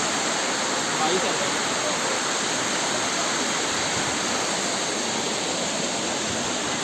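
A waterfall roars in a constant, dense rush of falling water, loud and steady throughout with no pauses.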